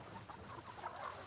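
Chickens cluck softly inside a spacious new farm coop, a faint, scattered murmur of short calls over low background noise.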